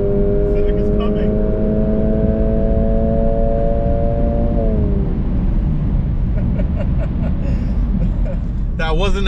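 A Honda Civic Type R FL5 on track during a race, its engine a steady loud drone that sweeps down in pitch as the car approaches and passes, over dense road and wind noise.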